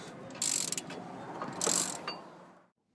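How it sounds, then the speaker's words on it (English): A wrench ratchets while tightening brake caliper bolts, giving two short bursts of rapid clicking close by with a faint mechanical rattle between them, then silence. "take the wrench and tighten them up fully"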